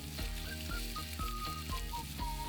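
Vegetables and black olives sizzle in a hot pan as they are stirred, a steady close crackle with regular scraping strokes across the whole stretch.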